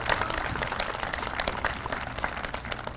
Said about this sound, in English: join me in giving a round of applause for our great band